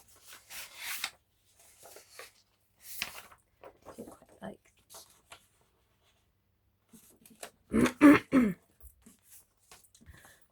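Someone with a dry, tickly throat clears it in a few short, rough bursts, close and fairly loud, amid scattered quiet rustling and paper sounds.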